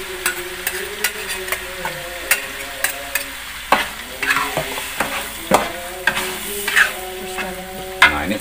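Chili sambal stirred and fried in a pan, the sauce for crispy kentang mustofa potatoes: close, steady sizzling with repeated scraping and clacking strokes of a spatula at an uneven rhythm, with no talking.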